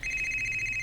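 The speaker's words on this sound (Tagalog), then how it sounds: "Akong cellphone, kinsa man eh." A mobile phone rings with a steady electronic tone, continuous and fairly faint over low background hum, with no talking.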